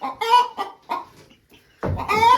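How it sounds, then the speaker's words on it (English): Chickens squawk and cluck in short agitated bursts while fighting over a nesting box, close by, ending in a louder flurry of squabbling. "Chickens fighting over the same nesting box."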